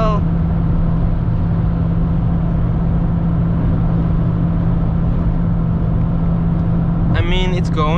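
Volkswagen Golf MK4 1.4 (75HP) hatchback at full throttle on the Autobahn, a steady loud engine drone and road roar from inside the cabin, with a brief tonal chirp near the end.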